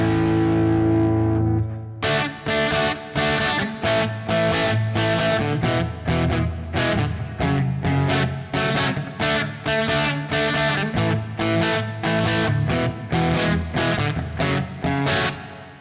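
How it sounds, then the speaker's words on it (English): A heavily distorted electric guitar rings out through a Komet amp, a sustained chord followed by steady rhythmic chugging strums, loud and close, no voices. "now I'm going to turn the Komet up so you can hear the nice, beautiful distortion"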